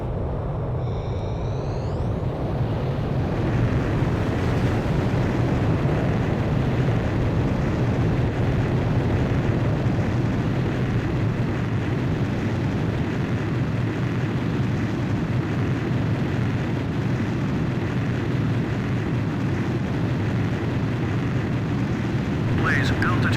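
A fighter jet launches from an aircraft carrier catapult in Ace Combat 5. A roaring engine rumble builds quickly and then holds loud and steady for over twenty seconds, while radio voices speak over it.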